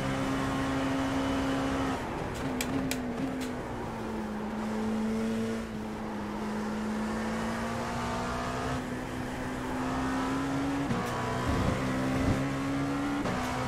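A steady LMP2 prototype race car engine in a racing video game holds a sustained drone at full throttle, pitch rising and dipping slightly through gear shifts and braking, loud and continuous for the whole stretch.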